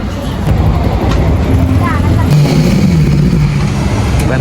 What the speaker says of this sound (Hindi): एग्जॉस्ट चेक करो यार, कितना खतरनाक साउंड दे रहा है।